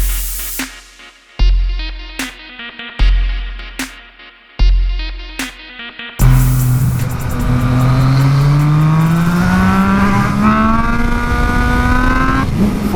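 A Ford GT sports car drives by on a misty day, its engine note rising and falling in a loud, strained sweep that takes over after a stretch of punchy rhythmic music.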